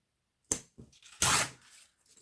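Old vintage paper torn by hand along one side, a short rip followed by a louder, longer tearing stroke, close and crisp with no talking.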